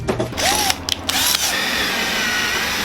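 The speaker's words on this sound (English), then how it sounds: "we want to make sure we drill the holes" A power drill whirs steadily, drilling holes during a car stereo install in a 2004 Toyota Sequoia, with a few brief stops and restarts at the start before running continuously, close and loud.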